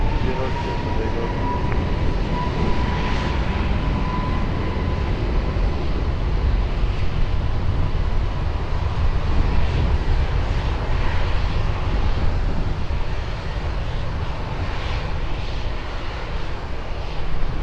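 A steady, loud roar of jet engines rumbles without a break as an airplane takes off from runway 20 at Lisbon Airport, with no voices.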